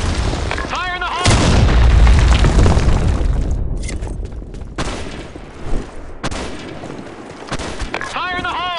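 Grenade blasts and gunfire in the online shooter BlackShot on the Sand Storm II map: heavy, loud booming and rumbling explosions, with in-game voice callouts briefly heard at the start and end.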